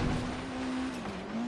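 Race cars in Forza Horizon 3 run side by side while overtaking, a steady droning engine note with slight pitch shifts and tire noise, close and continuous for a brief moment.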